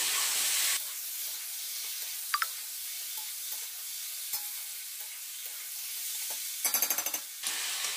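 Something sizzling steadily in hot oil in a pan, ahead of ginger-garlic paste going in. A soft, constant hiss is broken by a brief stir, a quick clink and a short crackling burst near the end, with no talking.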